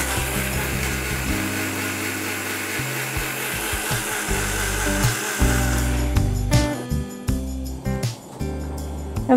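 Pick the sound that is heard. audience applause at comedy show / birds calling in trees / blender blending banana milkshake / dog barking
blender blending banana milkshake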